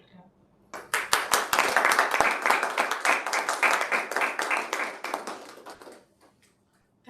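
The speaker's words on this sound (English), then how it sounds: "We need to clap." Audience clapping at an official energy event with Goa government officials, a dense burst of many hands that starts abruptly, holds steady and loud for about five seconds, then fades out.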